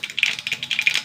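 Mustard seeds pop and splutter in hot oil, a rapid, close series of sharp crackles bursting in quick clusters.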